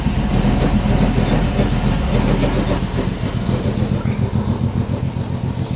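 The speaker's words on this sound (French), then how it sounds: "Regardez comment elle tourne maintenant puisque l'actuateur de ralenti est raccordé." A BMW M50 engine with its idle actuator connected idles steadily and loudly up close, giving a continuous rumbling pulse with a slight unevenness in rhythm throughout.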